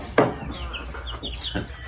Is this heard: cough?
no